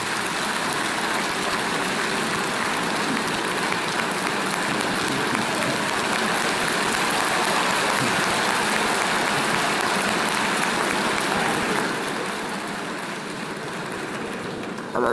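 Sustained applause from members of parliament fills a legislative chamber during a Côte d'Ivoire state-of-the-nation address, a dense, steady clatter of many hands that holds for about twelve seconds and then eases slightly toward the end.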